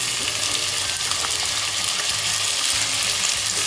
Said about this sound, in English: I'm adding about 3 tablespoons of onion, chopped onion, 2 green chilies